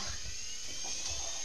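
The gyroscopic flywheel of a Losi Promoto RTR RC motorcycle spins with a thin, high, steady whine, like a small drill, fairly faint with low rumbles beneath and no talking.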